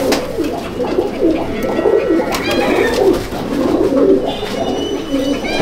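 Teddy pigeons in a loft at Betberia coo continuously, several birds overlapping in soft rolling calls, close by with faint wing and shuffling noises.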